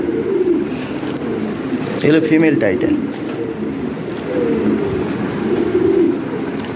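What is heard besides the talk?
pigeons cooing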